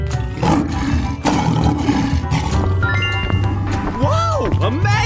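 A lion in a 3D animal sliding video game lets out a loud roar over game music and chiming effects, with a person talking and exclaiming over it.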